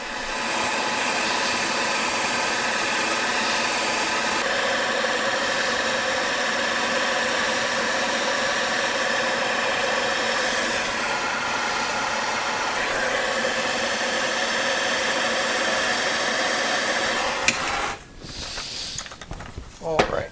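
Heat is applied to a stud on a two-stroke engine, giving a loud, close, steady roaring hiss that holds for about seventeen seconds before cutting out.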